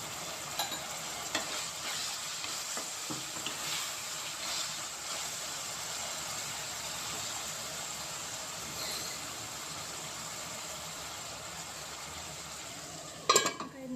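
Drumstick pieces fry in hot oil, giving a faint, continuous sizzle and hiss with soft stirring scrapes, ending in one sharper clatter.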